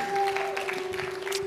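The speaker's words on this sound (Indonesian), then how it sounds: "Ya, yang excited untuk Jeko boleh berikan tepuk tangan dong." A church congregation claps together in a short burst of applause, a dense steady patter with a faint tone lingering underneath and no talking.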